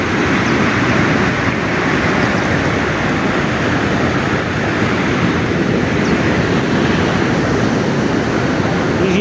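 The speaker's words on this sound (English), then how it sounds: "So this is where we have the intake of water to the tunnel." Water rushes steadily into a hydropower tunnel intake at a plant run by tea farmers, a loud, continuous broadband roar without pause or speech.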